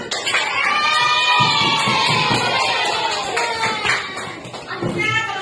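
Schoolchildren in a fifth-grade classroom cheer, shout and clap for a student group, a loud, lively burst of young voices and applause close by.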